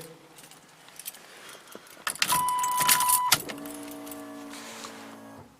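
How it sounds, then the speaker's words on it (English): A Pontiac Firebird's electric fuel pump comes on with a steady whine for about a second, heard close up and alone. Light jingles and clicks come before it, and a low hum carries on after it stops. "Well, the fuel pump come on."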